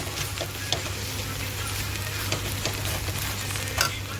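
Meat bhaji sizzles steadily in a hot pan, a soft continuous frying hiss with occasional light scrapes and clicks as a spoon stirs it, under a low background hum.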